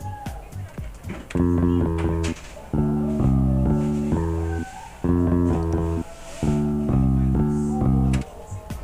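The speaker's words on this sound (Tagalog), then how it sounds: "so ayun tunog ng bass" Deep electronic bass notes play in a repeating rhythmic pattern, with sustained synth tones pulsing in regular phrases and short gaps between them.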